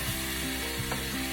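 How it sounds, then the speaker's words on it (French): Vegetables for ratatouille sizzle in a hot pan while a wooden spatula stirs them, giving a dense, continuous frying hiss with soft scraping strokes close by. "Je vais mélanger un petit peu, mélanger avec ma spatule en bois."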